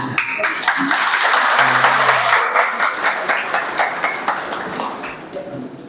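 An audience at a Jain religious discourse and workshop applauds with a dense, steady patter of many hands that stays close and loud, then thins toward the end, with a brief low murmur partway through.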